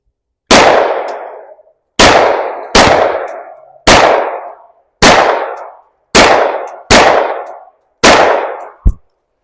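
Pumpkins shot with rounds of different calibers, giving eight loud, sharp outdoor gunshots at steady intervals of about a second, each followed by a brief ringing decay and ending with a quicker final report.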